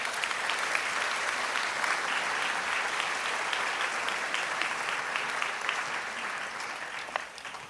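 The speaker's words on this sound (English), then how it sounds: "let's give a hearty round of applause for Professor David Schaberg" A large commencement crowd at the UCLA Humanities ceremony applauds a professor, a steady, dense wash of clapping held for several seconds before gently tapering off.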